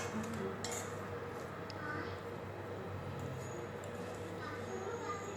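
A fork stirs ghee rice made with jeerakasala rice in an opened pressure cooker, giving a few faint, light metallic clinks and soft scrapes over quiet kitchen background.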